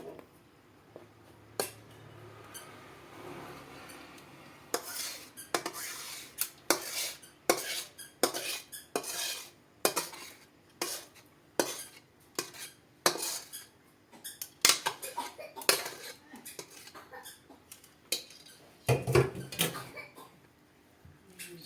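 Metal pots and utensils clatter and scrape as a pan of cooked semai is lifted off the stove, a long run of sharp, irregular clanks and knocks up close with no one speaking.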